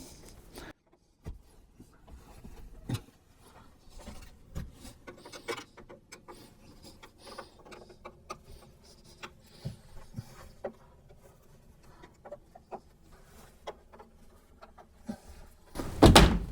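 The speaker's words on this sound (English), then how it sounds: "there's a little screw on the hinge that I'm just going to undo, and we're going to lift it a little bit" Small clicks, taps and rubbing from undoing a hinge screw and lifting a Z-frame plantation shutter panel, faint and sporadic, ending in a louder rattling knock of wood.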